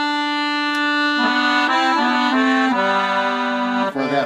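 An Excelsior 120 bass accordion sounds its double low reed, the paired reeds giving a slightly beating, phased tone. It plays a short run of held notes that step through several pitches, close and steady, with no voices.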